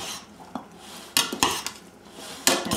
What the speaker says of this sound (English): So then I will toss it together with a couple of salad tongs.